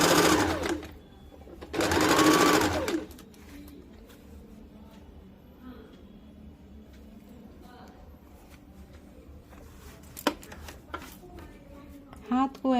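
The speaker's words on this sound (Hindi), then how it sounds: "अब इसको हम लोग सिल लेंगे।" Sewing machine stitching blouse fabric in short loud whirring bursts near the start, then quieter handling and clicks, ending in a brief burst of stitching again.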